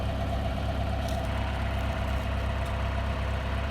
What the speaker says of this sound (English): I want to capture the tractor